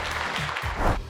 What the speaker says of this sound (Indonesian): silahkan kembali berikan tepuk tangan dong